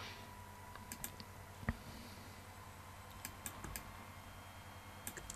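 Computer keyboard keys click sparsely and faintly while working in Photoshop with the pen tool, a few isolated taps and one sharper spacebar press over a low steady background hum.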